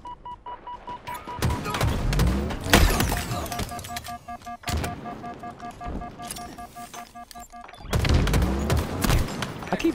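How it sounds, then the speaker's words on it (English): Grenades exploding in a ranked Oddball video game match, several heavy booming blasts with crackling debris among steady gunfire and electronic tones, loud and close, the biggest bursts landing about every two to three seconds. "Throwing grenades instead of marking"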